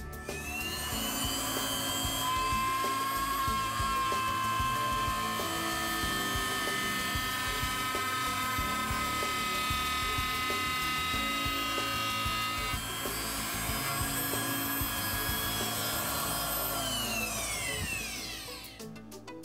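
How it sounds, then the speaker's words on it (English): A small high-pitched drill whines steadily for a long stretch while boring a hole into a pearl, holding a sustained tone with slight pitch shifts before spinning down at the end. "drill in the same spot to continue gradually enlarging"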